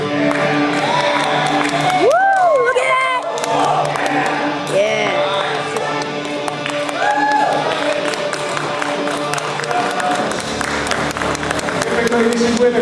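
Audience at a North American bodybuilding contest cheers and applauds, with whoops and shouted voices rising over continuous clapping and crowd noise, loud and close throughout.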